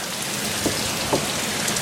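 Steady, heavy in-game rain pours down, a dense hiss of drops hitting surfaces, with a couple of faint thumps underneath.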